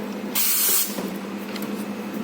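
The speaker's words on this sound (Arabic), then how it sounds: "بعد كده بقى هنمسح ورانا كده بالبخار" A coffee machine's steam wand being cleaned with steam gives off a sharp, loud hiss that lasts about half a second, followed by a softer background whoosh and faint clicks.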